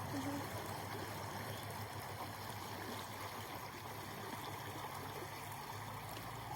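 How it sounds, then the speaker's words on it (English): A flowing outdoor stream bubbles and trickles steadily at a faint, distant level, a soft continuous wash with no talking, heard during a quiet listening pause on a stream health outing. "You heard the bubbles of the stream, which is fantastic. That tells us it's a flowing stream."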